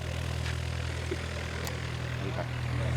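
Steady, loud drone of an airplane in flight, a constant low engine hum filling the cabin with no break for the full three seconds.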